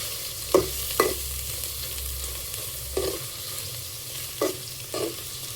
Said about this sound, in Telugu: ఇది కూడా కాస్త ఫ్రై అవ్వాలి.